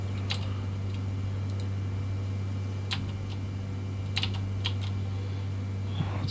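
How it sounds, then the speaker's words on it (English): Clacky keystrokes on a new mechanical keyboard come in irregular bursts over a steady low electrical hum, close to the mic, while playing Project Zomboid, with no one speaking. "Sorry about the noise, I got a new keyboard."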